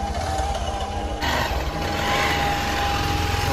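A sold motorbike rides away: a continuous engine drone with a steady whine, shifting abruptly in tone early on, then carrying on at an even, moderate level with no voices.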